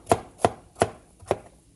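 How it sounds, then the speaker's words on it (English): A knife cuts through pumpkin on a board: five crisp, evenly spaced chops, close and loud, with no voices. "This is a pumpkin I'm cutting up right now."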